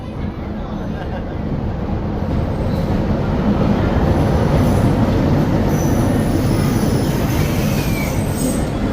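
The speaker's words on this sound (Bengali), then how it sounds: "ট্রেন আসছে" Passenger train from Bogura pulling into a busy railway station, a loud steady rumble of wheels on rails with squealing and rattling carriages throughout, crowd noise underneath.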